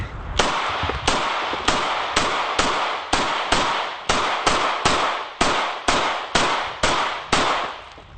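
Rapid gunfire aimed at a Samsung Galaxy S8 phone: about fifteen sharp, close, evenly spaced shots roughly every half second, with no talking.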